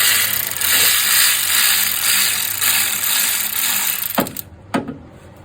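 A hand ratchet tightens a bolt on a 2005 Chevy Equinox 3.4L engine, giving a continuous close clicking rasp under a steady background hiss, ending with two sharp knocks.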